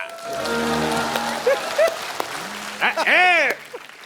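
A comedy show studio audience claps as a singer takes the hot seat, a rainy patter of applause overlaid by loud voices, whoops and sung notes from the stage.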